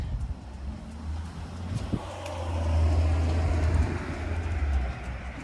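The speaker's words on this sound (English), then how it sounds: "Car noise is always ruining my video." Passing car traffic swells into a steady low rumble and then fades, heard outdoors from a moderate distance with no talk over it.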